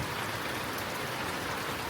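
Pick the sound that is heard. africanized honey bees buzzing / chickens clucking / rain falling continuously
rain falling continuously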